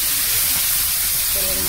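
Ground tomato paste hitting hot oil in a pan for a Bengali dhokar dalna curry, giving a loud, dense, continuous hiss, with a brief voice near the end.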